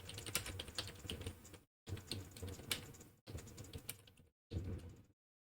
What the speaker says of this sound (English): Type in our first message here.